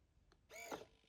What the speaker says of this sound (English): that's the sound of the servo closing.